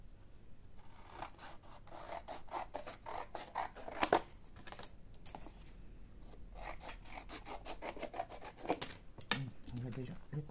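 Scissors snip through paper in quick, repeated rasping cuts, close and fairly quiet, coming in bursts with brief pauses between.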